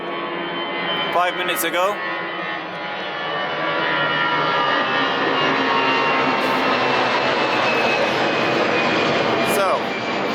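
Passenger jets passing overhead near Düsseldorf, a broad steady roar that swells and lingers across the whole stretch, with someone talking briefly over it.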